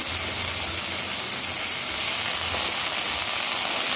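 A paste of dry coconut, onion and garlic sizzles and hisses steadily as it fries in a pan, a constant close frying noise with no pauses.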